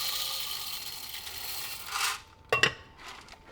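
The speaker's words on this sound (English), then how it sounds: "Just put a little bit here in my coffee grinder." Coffee beans pour into a KitchenAid coffee grinder, a dry rattling hiss that fades out, followed by a couple of sharp clicks and clatters close by.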